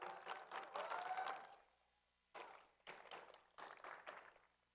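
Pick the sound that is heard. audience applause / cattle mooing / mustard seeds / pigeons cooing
audience applause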